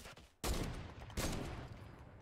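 A burst of gunfire from a shooter video game starts abruptly after a short lull, then a second loud blast follows, both ringing out with sustained noisy decay.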